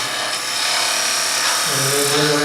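A skew chisel shears wood turning on a lathe, a steady close hiss of cutting over the machine's drone, with a humming tone rising in the last second.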